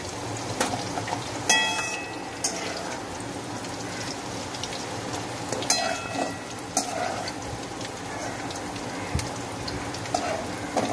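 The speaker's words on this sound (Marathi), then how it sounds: "हे बघा बटाटा आपला मस्त असा फ्राय झालेला आहे" Potatoes fry in a kadhai with a steady oil sizzle and crackle, broken by occasional sharp pops and spatters.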